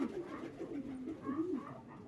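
Dyrkach breed pigeons coo close by in soft, wavering, throaty calls that overlap in a gentle, continuous murmur.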